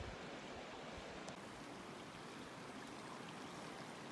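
A mountain creek rushes steadily downhill along a decommissioned trail, a constant broadband wash of flowing water, near and unbroken with no voices.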